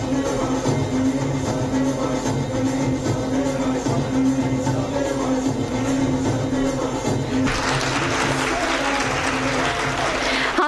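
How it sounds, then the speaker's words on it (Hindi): Steady applause from a crowd at a school annual function, cheering young children on stage, with a dense hall ambience and a brighter wash of clapping swelling toward the end. "जोरदार तालियां हमारे नन्हे मुन्ने बच्चों के लिए।"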